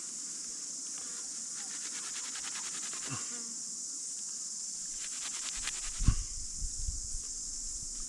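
Dry, fluffy last-season flower head roughed up by hand as bow drill tinder outdoors in New Zealand: faint, intermittent scratchy rustling with a couple of louder crunchy scrapes toward the end.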